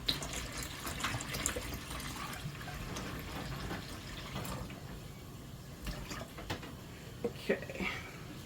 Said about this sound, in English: I'm gonna add 2 cups of vinegar.